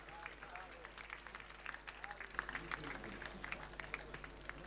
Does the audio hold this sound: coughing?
no